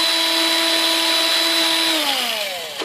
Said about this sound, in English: So I'm just going to ream that out a little.